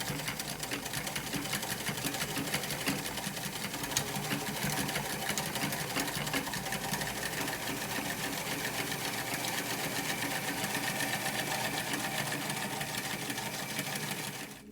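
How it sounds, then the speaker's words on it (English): A sewing machine runs steadily, stitching a long line through layers of cotton and PUL waterproof fabric, its rapid even mechanical chatter continuing close and loud for nearly the whole stretch before stopping abruptly. "My stitch line is going to go right through it and form one big rectangle."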